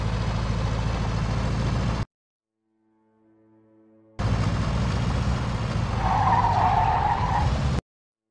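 Stolen car in the video game Mafia 2 driving with a loud, steady engine roar and tire skidding, interrupted by a brief gap of near silence, then resuming with a sustained squeal before stopping abruptly.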